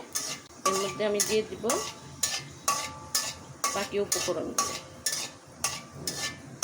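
Dried red chillies fry in hot soybean oil with a steady crackling sizzle and intermittent scraping and stirring, while someone talks over it throughout.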